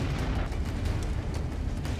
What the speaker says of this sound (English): a precise hit to the APC's weak point, and we see a very large explosion